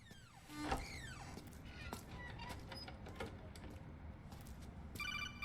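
A telephone rings in the Metal Gear Solid 4 video game, a brief electronic ringing near the end of a busy stretch of game sounds and effects, with voices murmuring underneath.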